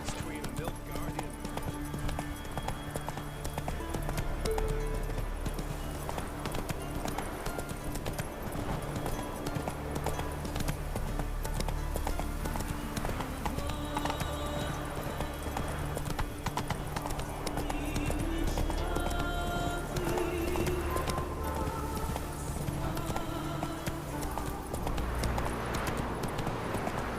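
Hoofbeats of the horse Roach galloping in The Witcher 3 beat in a fast, steady clip-clop rhythm that continues throughout, with game ambience and some voices in the background.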